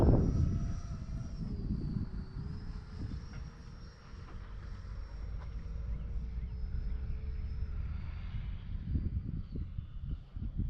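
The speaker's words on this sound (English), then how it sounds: "What a sweet flying little jet." A K-8 Red Falcon RC jet with a 6s electric ducted fan passes overhead, its high whining turbine tone sliding in pitch as it flies by, heard outdoors over steady wind rumble and some handling noise.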